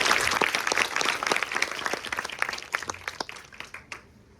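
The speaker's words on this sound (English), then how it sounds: "Yes, a big round of applause." Audience applauding at a panel discussion, a steady round of dense clapping that gradually thins out, with a few louder individual claps near the end.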